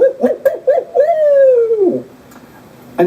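A voice mimics a barred owl for turkey hunting: several quick, rhythmic hoots lead into one long, drawn-out hoot that drops off at the end. It is loud and close, followed by quiet.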